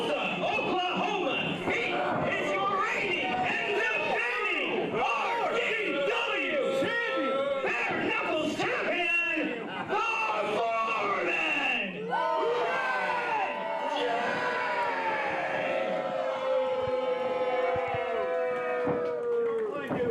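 Wrestling crowd at the American Legion hall in Tulsa during a Brass Knuckles Championship match, yelling and cheering steadily throughout, with an announcer talking over the noise.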